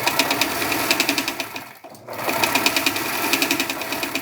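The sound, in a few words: sewing machine stitching ties with fold over elastic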